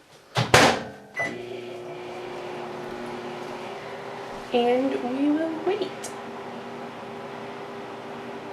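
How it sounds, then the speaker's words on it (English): A home microwave oven heats a rosemary, fenugreek and rose water hair conditioner mixture: a few sharp clicks and a beep, then a steady low electrical hum with a brief spoken phrase in the middle. "So I'm going to microwave this for a minute in my microwave."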